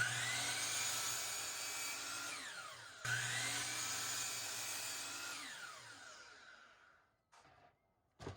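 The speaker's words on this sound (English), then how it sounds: "cutting them down with the chop saw." A chop saw cuts through scraps of 3/4-inch plywood in two close, loud passes. Each whining cut rises and falls away, and a few short knocks of wood follow at the end.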